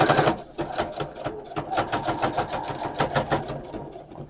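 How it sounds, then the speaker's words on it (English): A sewing machine runs a straight stitch through sewable Velcro on an 18-inch doll's tea dress, a steady close whirring chatter of rapid needle strokes that pauses briefly near the start and then carries on. "And then do a straight stitch."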